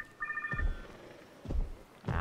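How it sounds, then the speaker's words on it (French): Telephone ringing in the video game Jurassic World Evolution 2, a faint electronic trilling ring heard briefly once, set among low thumps and soft gameplay sounds. "Arrête avec ton téléphone à la con"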